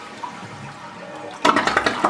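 Toilet flushing: a quiet lead-in, then a sudden loud, close rush of water swirling and gurgling for the last half second.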